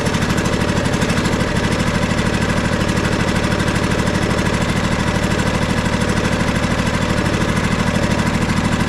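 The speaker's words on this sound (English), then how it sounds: "It's running, another thing I can tell is it sounds like it's running on one cylinder." A riding mower's small engine runs rough on one cylinder, a loud, fast, uneven chugging pulse that goes on without a break, with no one talking.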